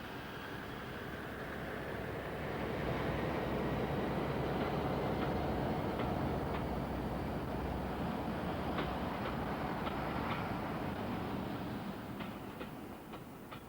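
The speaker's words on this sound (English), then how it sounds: "A charter train of mixed coaches and Pullman stock heads into New Mills Tunnel" A charter train of mixed coaches and Pullman stock rolls into New Mills Tunnel, giving a steady, moderately distant rumble with faint rhythmic wheel clicks and some wind noise.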